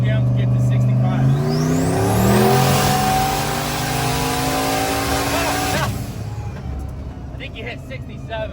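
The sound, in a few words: Jeep Trackhawk engine revving hard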